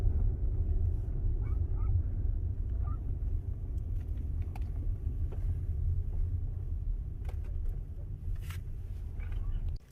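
A Tesla towing an RV reverses at a Supercharger, giving a steady low rumble of rolling tires and road noise with some wind buffeting, continuous and fairly close throughout.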